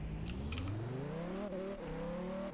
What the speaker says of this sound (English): I'm just going to get out the Lamborghini